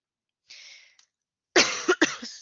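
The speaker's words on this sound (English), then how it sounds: "I've got a bit of a cough here." Two bursts of coughing: a lighter cough first, then a louder, harsher cluster of coughs after a brief pause, close to the listener.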